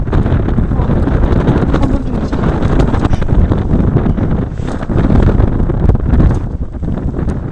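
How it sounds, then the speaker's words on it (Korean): Strong mountain wind roars at Ulsanbawi in Seoraksan, buffeting the microphone in loud rumbling gusts that rise and fall throughout. "바람이 거세서 바람 소리가 마치 산이 우는 소리 같다고"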